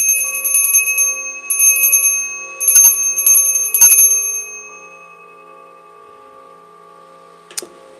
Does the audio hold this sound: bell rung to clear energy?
yes